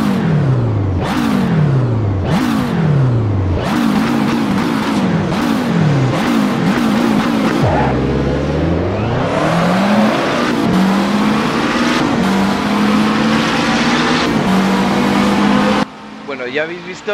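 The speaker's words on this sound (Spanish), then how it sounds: "vamos a ver ese gameplay con un McLaren 650S GT3" A McLaren 650S GT3 race car engine in Assetto Corsa roars loud and close, revving up through repeated gear shifts, dropping sharply while braking, then climbing again in long pulls, with a voice talking over it.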